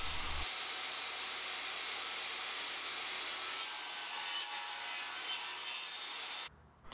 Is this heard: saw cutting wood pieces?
yes